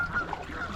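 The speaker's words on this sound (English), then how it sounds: "Here come the geese again. Wow, look at them right over us" A flock of geese honks while flying low overhead above Moss Lake in spring, a steady stream of calls that sounds fairly close.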